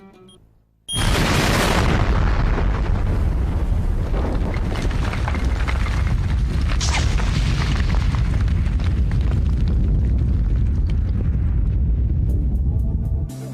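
A military demolition blast in Afghanistan erupts after a quiet moment into a huge, sustained roaring boom that rumbles on for many seconds, loud and close.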